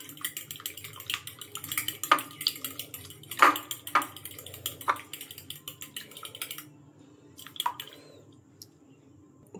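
A mixture seasoned with black pepper and salt is beaten in a bowl, giving irregular light clicks and taps of utensil on the bowl against a quiet background.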